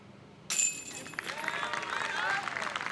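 A crowd at the 2023 MVP Open disc golf tournament breaks into applause, starting abruptly and holding as a steady, moderately loud clatter of clapping that continues to the end.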